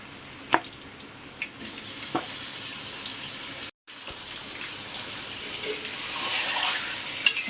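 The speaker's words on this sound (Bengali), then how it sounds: "এবার পেঁয়াজের সাথে গোস্তটাও ভাজতে হবে।" Chicken pieces frying with lightly browned onions in a kadai, a steady close sizzle with a few scraping stirs and a brief break midway, no water added.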